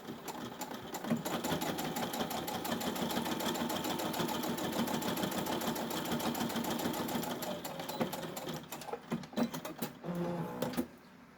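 A sewing machine stitches a fabric bowl koozie corner to corner in one steady, close, continuous run of rapid needle clatter, then slows into a few short bursts before stopping.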